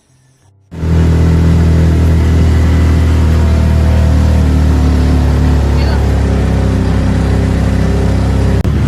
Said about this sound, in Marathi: ही रायगडला जाणारी गाडी आहे